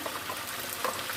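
Whole spices, including black cardamom and cumin, sizzle softly while being stirred and fried in a pot for chicken biryani, a faint, steady hiss without talk.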